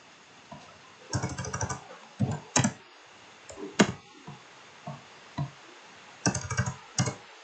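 Keyboard shortcuts pressed on a computer keyboard, with short clustered bursts of clicky keystrokes separated by quiet gaps, close and distinct with no speech.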